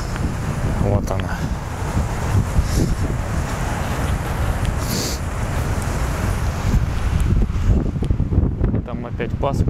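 Strong wind buffets the microphone by the sea at Paphos, Cyprus, with a steady loud roar and crashing waves underneath, continuous throughout.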